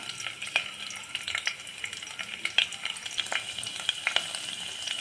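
Chopped garlic frying in hot oil with clove and cinnamon for a meal maker gravy, a steady close sizzle with crackling pops throughout and no talk.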